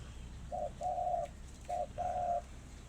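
Four soft cooing notes from a decoy dove in two pairs, a short coo followed by a longer one each time, over a low, steady background hum.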